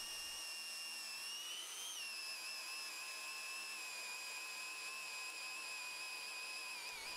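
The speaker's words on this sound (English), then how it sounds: "in this bit of scrap I'm going to drill down the centre with this 20mm drill bit" A drill with a 20mm bit bores down through a scrap of wood, held by hand, giving a steady high whine with a slight dip in pitch early on that holds for about seven seconds, close and alone.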